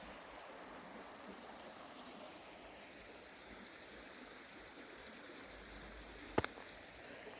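A river flows beneath ice in snowy northern Maine, giving a steady, soft broadband wash of running water heard from nearby. It stays even throughout, with one brief sharp click near the end.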